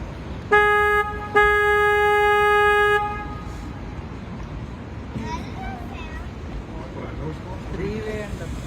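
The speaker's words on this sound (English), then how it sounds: "we slow down with the foghorn" Two loud, sustained blasts from the horn of an electric tour boat on the San Antonio River Walk, a short toot then a longer one, followed by quieter boat and crowd ambience with voices.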